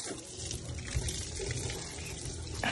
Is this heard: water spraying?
yes